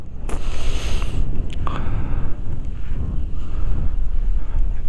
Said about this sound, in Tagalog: Ang lakas pati ng hangin.